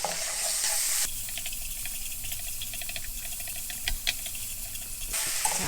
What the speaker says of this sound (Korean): 그 다음에 주걱으로 볶겠습니다. 색깔이 이쁜 갈색 날 때까지 볶아주세요.